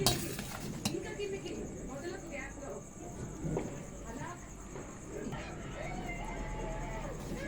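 Chicken dum biryani rice being tossed and mixed in a basin, with soft scraping and stirring noises under steady background hum and faint talk.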